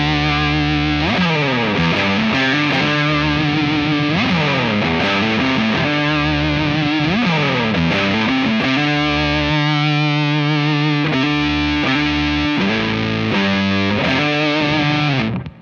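A Beetronics Zzombee Filtremulator pedal gives an electric guitar a fuzz tone with low end blended in, heard as loud, continuous distorted riffing with sweeping filtered notes and chord changes that fill the whole stretch without any talk.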